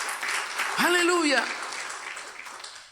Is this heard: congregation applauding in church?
yes